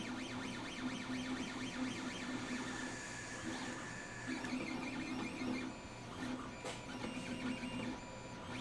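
Anet ET5X 3D printer running, its stepper motors whining in shifting tones over a steady hum, close and continuous with no talk.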